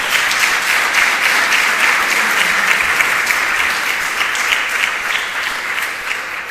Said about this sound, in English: I would like again to please a round of applause to all the organizing team that have done a great job